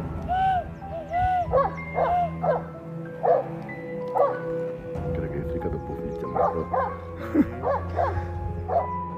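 A dog barks repeatedly at a mother bear and her cubs raiding a tent at a campsite. The barks come in an uneven series over steady low background noise.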